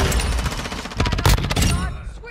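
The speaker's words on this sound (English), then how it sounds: "I don't know how I missed two shotgun shots right there" Shotgun blasts from a first-person shooter video game, with two or more loud, sharp reports over busy game sound and a bit of talking close to the microphone.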